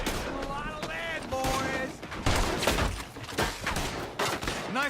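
Repeated gunshots in a Red Dead Redemption 2 gunfight, several sharp bangs spread across the scene, with people talking over the shooting.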